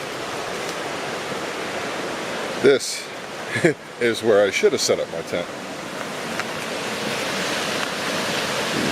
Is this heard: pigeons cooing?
no